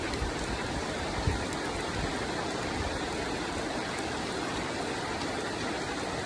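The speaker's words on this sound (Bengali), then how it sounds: "অনেক জোরে বৃষ্টি হইতেছে" Heavy rain pours down outside, heard as a constant, fairly faint wash of falling water with no breaks and no voices.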